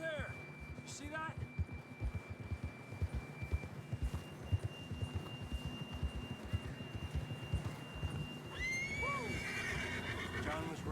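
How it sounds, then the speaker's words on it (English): A horse in the Red Dead Redemption 2 video game whinnies twice, once briefly near the start and again more fully toward the end, over steady hoofbeats and a low background hum. "John was riding that horse when we left Blackwater"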